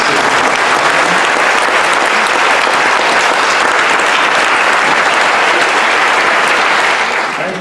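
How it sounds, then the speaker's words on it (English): Sustained round of applause from an audience honouring students at a debate event, dense and loud throughout before tapering slightly at the very end, with no voices over it. "I do ask that we all give a round of applause to the students"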